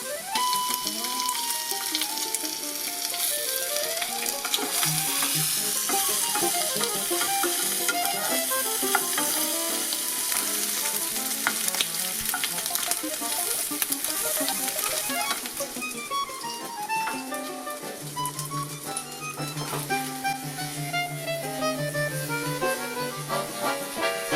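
Linguiça sausage frying in a pan hisses and spatters steadily at close range, with occasional stirring scrapes, while tuneful background music plays throughout.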